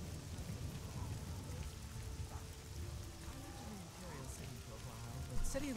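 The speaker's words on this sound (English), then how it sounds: "I can hear thunder rumbling" Rain in the video game Oblivion, a steady patter on surfaces with low thunder rumbling underneath, continuing through the clip with faint game sounds near the end.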